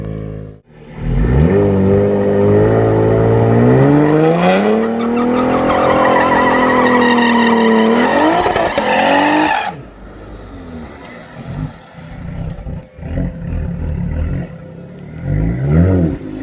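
A turbocharged car with welded-shut wastegates and the boost turned up pulls hard on a private rental track, its loud engine note climbing steadily in pitch for several seconds before a gear change, then rough burbling and revving close by.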